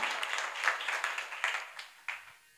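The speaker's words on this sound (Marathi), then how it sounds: "त्यांच्यासाठी एकदा जोरदार टाळ्या वाजवा." An audience at a kirtan claps in scattered, fairly brisk applause. It is heard from a moderate distance and thins out toward the end.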